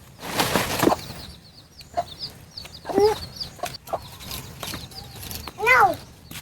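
A chicken clucks in short bursts, a few close, sharp calls spaced across the moment with wing flapping, while people talk intermittently nearby.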